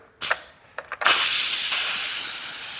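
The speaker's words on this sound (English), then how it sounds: "I'm ready to release the pressure on these and get them out of the pressure cooker" A pressure cooker vent lets out steam for a pressure release on a batch of tamales, starting as short bursts of hiss and then opening into a loud, steady, close rushing jet that runs on without a break.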